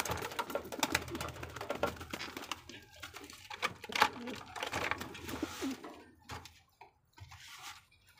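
Soft repeated cooing of a pet pigeon, a checkered bird, close by amid rustling and handling noises, with a few quiet voices and other birds in the background.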